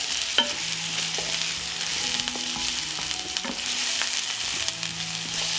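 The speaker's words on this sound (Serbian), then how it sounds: "I sve ćemo promešati i propržiti da omekša." Onion, carrot and garlic fry in hot oil in a pan, a steady close sizzle running throughout with occasional scraping and clinking of a stirring utensil against the pan.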